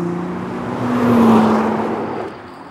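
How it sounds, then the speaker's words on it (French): Nissan GT-R with a twin-turbo V6 passes close by, a steady engine roar that swells to a peak around the middle and fades again as it goes. "Un énorme V6 avec 2 turbos gigantesques."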